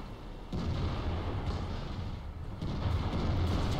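Tank cannon fire in World of Tanks from an Object 907 battle, a booming low rumble that swells at about half a second and again near the end, with continuous battle noise between the blasts.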